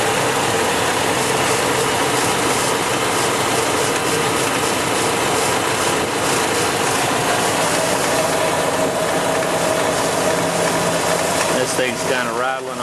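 EFI engine running with a rattle, a loud, constant mechanical din with a rattling, ratchet-like texture throughout, up close, with no break in the noise.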